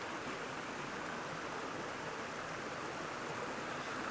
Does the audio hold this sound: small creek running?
yes